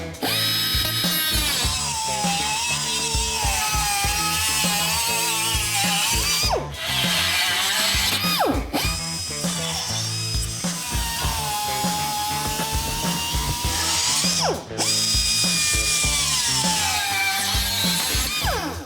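A cutoff wheel slices through metal on an OBS Chevy truck, a loud, continuous high-pitched grinding whine with brief pauses and restarts between cuts, heard up close with no talking.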